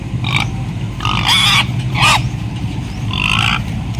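Pig grunts from a fattener hog being sold at about 100 kilos on a farm, several loud, close oinks in uneven bursts over a low rumble.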